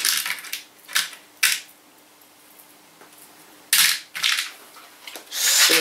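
Screws are driven into the side cover of a desktop PC case, heard as several short, close, harsh whirring bursts with quiet gaps between them.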